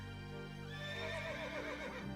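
A horse whinnies loudly in a long, shaky, wavering neigh over a steady background of game music in the video game Berwick Saga.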